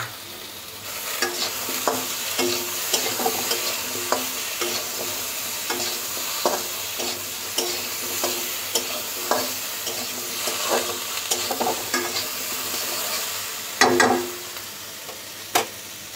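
Cabbage ghonto with potatoes, spices and slit green chilies frying in a pan: a soft continuous sizzle under repeated scraping, stirring strokes, with a louder clatter near the end.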